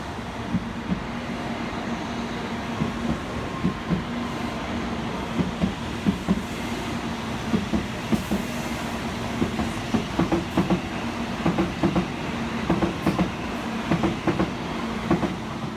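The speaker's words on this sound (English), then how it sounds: "we took the Shinkansen home" A Shinkansen bullet train runs along the rails in Japan, heard from on board as a steady low rumbling drone with a rhythmic clickety-clack of wheels over rail joints that grows more frequent toward the end.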